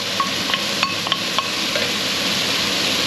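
Onions fry in a pan for a chicken stew, a steady close sizzle with a few light clicks of a utensil against the pan early on.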